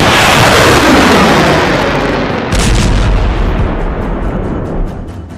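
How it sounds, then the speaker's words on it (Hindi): Anti-tank missile fire on the Israel–Lebanon border, a very loud, continuous roaring blast with a second boom partway through, rumbling and fading slowly, no talk. "जब इजराइल और लेबनान के बॉर्डर पर एंटी टैंक मिसाइल फायर की जा रही है"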